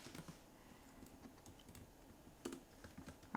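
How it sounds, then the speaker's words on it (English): Quiet, close clatter of typing on a computer keyboard while building a website, with irregular keystrokes and a brief louder burst near the end. "Hopefully my typing is not the thing that loses this challenge."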